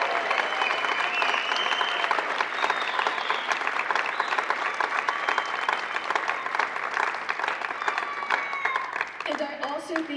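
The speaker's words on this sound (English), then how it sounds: "could we just have another round of thunderous applause for these graduates?" Graduates at a UNMLA graduation ceremony receive thunderous applause from the audience, a dense, loud clapping roar with cheers that holds steady for about ten seconds before thinning at the end.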